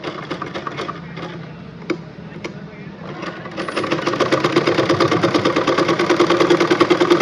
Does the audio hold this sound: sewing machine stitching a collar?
yes